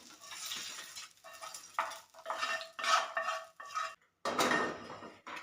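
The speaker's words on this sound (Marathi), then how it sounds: "या भाजलेल्या मिरच्या आपल्याला ताटामध्ये काढून घ्यायच्या मिरच्या ताटामध्ये काढून घेऊया" Roasted green chillies being moved from a pan onto a plate, with several close metallic scrapes and clinks of utensil against pan and plate in short bursts, no talking.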